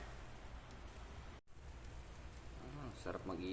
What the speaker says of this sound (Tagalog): Ayan, heavy rain. Sobrang lakas.